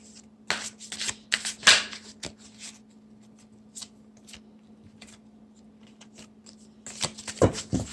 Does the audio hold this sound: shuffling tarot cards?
yes